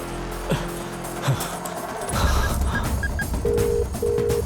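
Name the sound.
telephone being dialed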